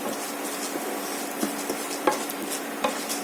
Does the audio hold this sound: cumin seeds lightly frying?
yes